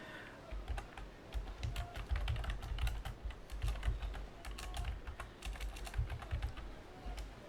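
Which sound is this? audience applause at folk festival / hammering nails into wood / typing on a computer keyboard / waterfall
typing on a computer keyboard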